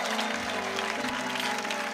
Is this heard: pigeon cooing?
no